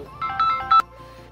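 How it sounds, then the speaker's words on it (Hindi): A mobile phone ringtone plays a short melody of bright, clear electronic tones, louder toward the end, with no voices over it. "सॉरी मेरा फ़ोन आ गया था बीच में"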